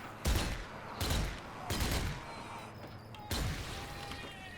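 Bursts of gunfire aimed at a little doll creature in the game Zombie Army 4: Dead War, four heavy volleys spaced about a second apart, each with a booming low thud and a ringing tail.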